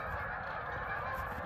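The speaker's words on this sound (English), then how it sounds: "It's like every golf course set free its geese." Flock of geese honking at the end of the season near water, a dense continuous chorus of overlapping calls, fairly close and steady.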